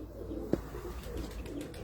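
A Teddy–Kamagar cross pigeon gives one short, soft coo at close range against faint background noise, with no one talking.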